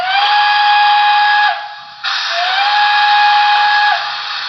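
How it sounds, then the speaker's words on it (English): A loud, shrill single-chime PRR Banshee steam whistle on a Broadway Limited Imports Paragon 3 PRR L1s Mikado model locomotive blows in two long sustained blasts with a brief break between them, close and piercing. "that's a really accurate PRR Banshee whistle, the single chime Banshee"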